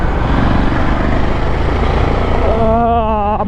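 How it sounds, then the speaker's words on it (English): A motorbike ridden through city streets gives a steady, close engine and road roar throughout, with a rising whine near the end. "Missed riding this bike, man. This is so flickable and maneuverable in the city."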